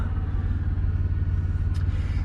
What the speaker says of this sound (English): We have an APU on this truck, and it works.